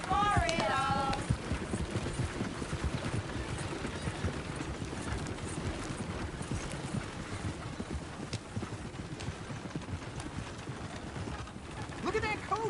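A horse-drawn coach clattering along in the Red Dead Redemption 2 video game, with steady clip-clop of hooves and rattling wheels under background sounds, while people talk at the start and end.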